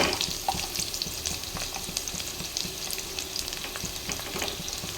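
Ginger and garlic fry in a hot pan for Telugu-style plain kushka, a steady crackling sizzle with faint scraping and clinks throughout, close and continuous with no voices.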